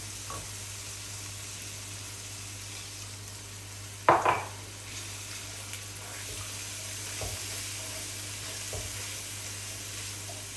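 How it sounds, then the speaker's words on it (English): Tomato and onion sauce for bobotie is stirred in a pan, with a soft steady sizzle under a low hum, a sharp spoon knock against the pan, and a few quieter scrapes afterward. "you're going to keep stirring that until it creates this sort of tomatoey, oniony sauce"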